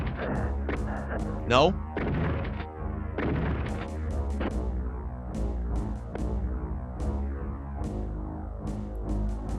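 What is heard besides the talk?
gunfire from enemies shooting in the SNES video game DOOM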